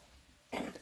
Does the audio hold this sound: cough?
yes